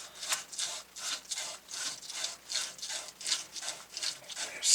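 Sandpaper scrubbing copper pipe fittings in preparation for soldering a pressure tank repair, a steady back-and-forth rasping in quick regular strokes, close and moderately loud with no talk.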